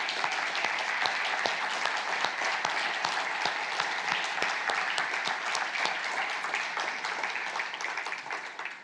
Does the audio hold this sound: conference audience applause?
yes